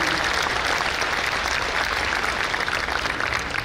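Loud, sustained applause from a large audience at a university commencement ceremony in the Philippines, dense and even clapping filling the whole stretch without a break.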